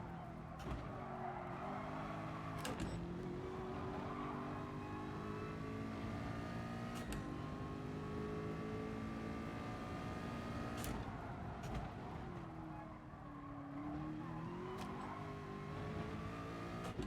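Engine of a mid-engine race car in Gran Turismo Sport, loud and sustained, revving up and down through gear changes with occasional tire squeal, steady and close throughout.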